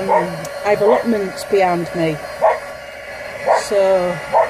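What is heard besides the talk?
dog barking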